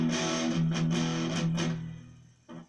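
Electric guitar with distortion playing bar chords from the Tales from the Crypt theme, several strummed chords ringing with sustain, then fading, with one final short chord, close and alone.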